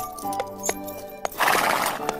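A horse whinnies loudly and close by, preceded by a few sharp hoof knocks, in a dramatized reading of the fifteenth-century Spanish play La Celestina.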